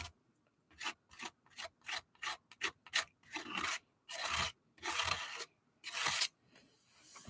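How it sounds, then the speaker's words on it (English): Repeated scraping strokes in a craft session, a rough rasping rub sounding in short bursts, then longer sustained drags, close and fairly loud, with no talking. "Now I'm going to keep scraping"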